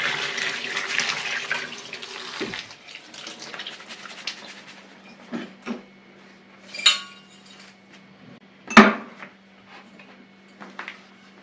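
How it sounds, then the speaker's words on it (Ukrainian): Hot water pours steadily into a pot for a couple of seconds, followed by scattered metallic clinks and clatters of cookware. "Наливаю водичку в мене є гаряча."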